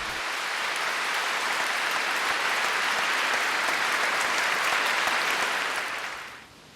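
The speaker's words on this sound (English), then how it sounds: "And just listen to the applause." A large congregation at John McCain's funeral service breaks into sustained applause, a dense roar of clapping that holds steady for about six seconds before fading away, heard alone without speech.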